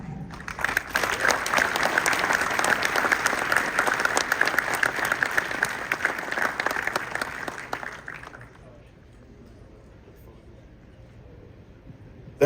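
An audience at a 2024 SEMA hot rod industry awards reception bursts into dense, sustained applause with cheers, loud and close for about eight seconds, then it drops off sharply to a quiet room murmur.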